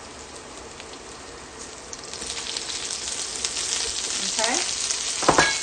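Chopped onions hit hot oil with sautéed garlic in a pan for Filipino pancit, raising a quiet background sizzle into louder, crackling frying with stirring clatter; a voice speaks briefly.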